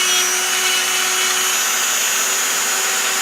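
A Dremel rotary tool runs continuously on an old model boat, a steady high-pitched whine holding close and loud throughout with no talk over it.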